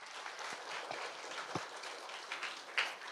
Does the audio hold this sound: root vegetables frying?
no